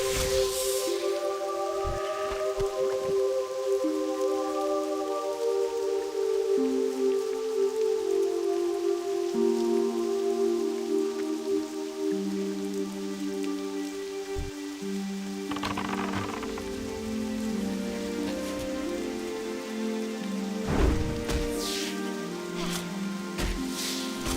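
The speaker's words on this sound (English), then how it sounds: "it started to rain here quite heavily in Teldrassil" Heavy rain falls steadily in Teldrassil, a night elf forest zone in World of Warcraft Classic, as a continuous patter under soft musical background tones, with no talking.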